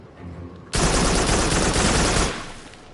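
A sustained, loud burst of rapid automatic gunfire in Farpoint, starting abruptly after a quiet moment and running about a second and a half before cutting off.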